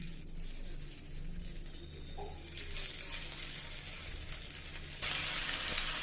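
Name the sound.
beef pieces searing in hot olive oil in a pan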